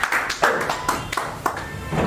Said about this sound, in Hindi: ये तालियां कल आपके लिए भी बजने वाली हैं।